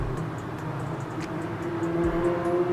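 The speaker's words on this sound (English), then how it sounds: "it's just loud car after loud car" Loud cars with broken mufflers pass one after another, making a continuous low, throaty engine rumble that swells slightly near the end.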